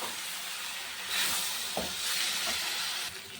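Water poured into frying spices in a pan sets off a broad, steady hiss that swells twice, with a couple of faint clinks underneath.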